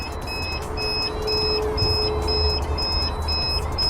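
An electronic alarm beeps during stress testing of a swollen 280Ah EVE battery cell, sounding a steady chain of short, evenly spaced, high tones over a constant low hum.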